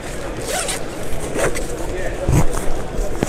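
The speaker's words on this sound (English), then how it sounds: "two-way zip," A two-way zip on a rifle bag is pulled open in several short, scratchy zipping strokes, close up, while someone speaks at the same time.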